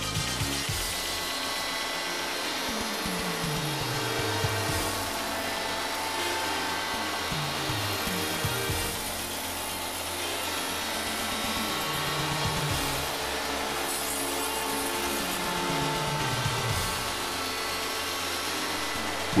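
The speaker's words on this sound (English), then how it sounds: "The end of a part can be milled to fit a matching house or seat cut in seconds with an efficient cut by the universal mill." A Hundegger K2i joinery saw mills the end of a timber part with its universal mill, a loud continuous machine whine and roar with repeated falling and rising motor sweeps as the cutter works through the wood.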